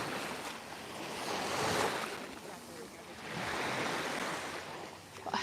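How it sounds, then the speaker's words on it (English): Evening sea waves wash onto a shallow beach at Can Picafort, Mallorca, in soft, rolling surges that rise and fall twice, with a little wind noise on the microphone. "I hope you're enjoying the sounds of the sea tonight."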